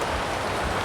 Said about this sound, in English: Rain come down, you know.